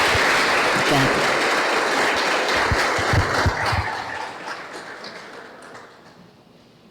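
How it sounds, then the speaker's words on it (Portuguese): Audience at a Spiritist lecture breaks into loud, dense applause that holds steady for several seconds, then gradually thins and fades away. "Vamos enviar as palmas, a energia das palmas de vocês para todos os meus pacientes"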